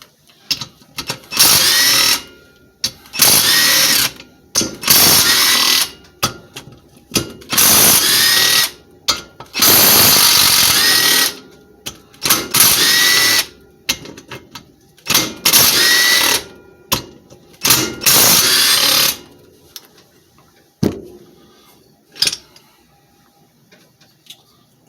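A ratchet and socket working the head bolts on a 5hp Briggs and Stratton engine, loud rapid clicking bursts repeated in a steady stop-start rhythm, close up, fading out toward the end.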